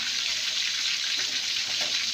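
Constant bright sizzling and crackling of tilapia frying in hot oil, steady and close, with no voices.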